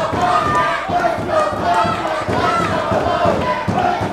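A packed wrestling crowd at a PWF loser-leaves match roars and cheers in a continuous loud wash, with chanting voices rising and falling throughout.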